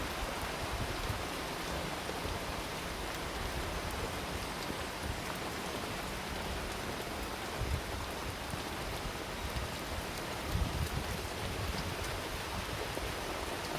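Steady rain falls through the whole stretch at night, a dense even hiss of drops on surfaces with occasional louder spatters and no voices.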